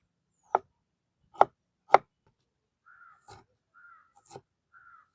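Ginger chopped on a board: three sharp, separate knife strikes, close and crisp, followed by softer, lighter taps amid quiet pauses, with no voices.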